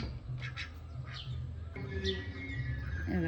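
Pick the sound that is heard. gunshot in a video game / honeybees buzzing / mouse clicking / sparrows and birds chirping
sparrows and birds chirping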